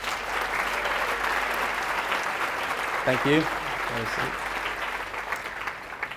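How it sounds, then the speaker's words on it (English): Sustained applause from a dinner audience at a fundraiser, dense and steady throughout, with a short spoken thanks breaking through midway. "Please give them a round of applause."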